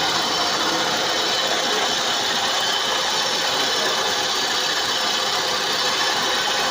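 Mitsubishi Lancer engine running at a steady idle close by, a continuous mechanical hum with a faint rapid ticking rhythm and no voices.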